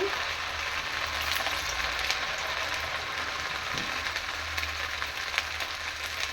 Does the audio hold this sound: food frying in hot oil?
yes